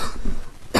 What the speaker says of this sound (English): Once again, sorry for the cough